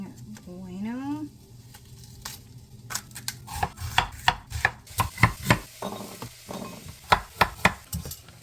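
A knife chops an onion in a domestic kitchen, sounding as a run of sharp, rhythmic knocks on a board that grows busier and louder, close up, after a short stretch of someone talking.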